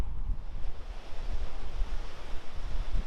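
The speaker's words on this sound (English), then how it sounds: "Really hear the waves crashing on the rocks." Pacific Ocean waves crash on the rocky shore at Point Joe along 17 Mile Drive near Pebble Beach, a continuous churning surf roar with wind, heard close and with no voices.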